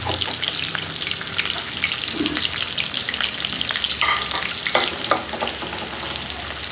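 Sliced onions with cardamom, cinnamon, bay leaf, cloves and a little fenugreek sizzle steadily in a hot pan, a loud continuous frying hiss with occasional stirring scrapes.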